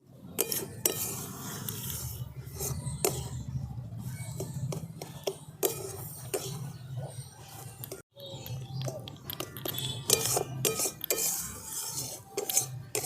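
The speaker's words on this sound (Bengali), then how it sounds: "এবার কালারটা চেঞ্জ না হওয়া পর্যন্ত আমি এইভাবেই নেড়ে যাব" A utensil scrapes and clinks steadily against a pan while gram flour is stirred in ghee for besan barfi, with soft rhythmic stirring and occasional sharper metal taps throughout.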